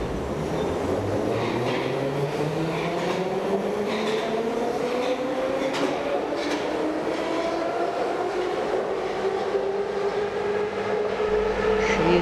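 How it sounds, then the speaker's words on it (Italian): Soviet-built Metrovagonmash metro train from 1976 running on Budapest's M3 line, a steady loud rumble with a rising whine of traction motors as it accelerates, continuous throughout with no talk. "Convogli di costruzione sovietica"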